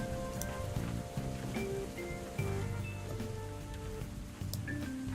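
Casual rain plays as a background track from a computer speaker, a steady hiss and patter under musical tones, continuous and fairly even in level.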